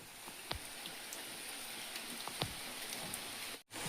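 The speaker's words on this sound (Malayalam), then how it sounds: "ഇങ്ങനെ മഴ പെയ്തോണ്ടിരിക്കുക കേട്ടോ." Steady rain falls on a building site, a dense even hiss with a few louder drops spattering close by and a brief dropout near the end.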